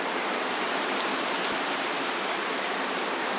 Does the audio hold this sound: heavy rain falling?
yes